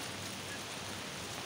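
Heavy rain pouring down during a monsoon afternoon, a constant broadband hiss that is fairly quiet and steady throughout, with no speech.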